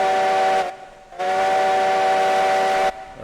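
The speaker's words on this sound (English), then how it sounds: "Alright, Badger, I don't know if you can hear that whistle back there" A steam locomotive whistle in the RailRoads Online video game gives two clear blasts, a short toot followed by a longer sustained one, loud and alone.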